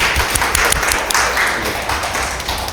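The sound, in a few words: audience applause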